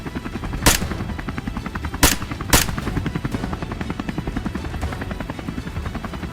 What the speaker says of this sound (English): The helicopter kept circling